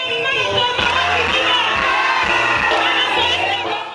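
A huge crowd of party members packs Massina municipal stadium for a political celebration, cheering, whooping and shouting together in one loud, continuous roar.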